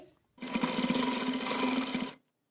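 A sewing machine runs one steady burst of nearly two seconds while stitching a girl's Pathani suit, close and alone with no talk.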